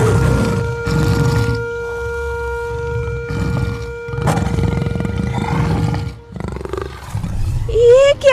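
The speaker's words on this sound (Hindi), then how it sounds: "ये तो भूखे शेर के दहाड़ है।" A hungry lion roars near a jungle riverbank in an animated horror story, deep sustained growling roars layered with a droning tone and dramatic music, loud and close, ending with a rising whine.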